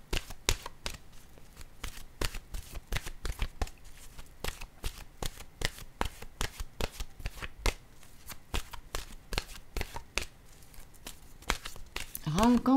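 Oracle cards from an intuitive-soul deck being shuffled by hand, a long run of quick, regular papery slaps and riffles close to the microphone, with a brief voice-like tone rising at the very end.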